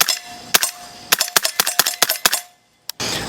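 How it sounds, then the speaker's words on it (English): An integrally suppressed Broad River Tactical CAR 15 SD radial-delayed AR9 fires about ten sharp, close shots at steel targets in an uneven string, then one last isolated shot after a short silence. "Alright, let's put some shots on steel."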